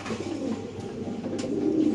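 White pigeons coo at a farm, soft low throaty calls repeating close by over a quiet background, with no talking.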